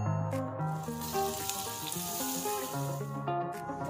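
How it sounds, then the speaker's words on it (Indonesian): Margarine sizzles and crackles steadily in a hot pan, the first step of making caramel popcorn, with continuous close frying noise and no talk. "pertama-tama kita masukkan 2 sendok margarin."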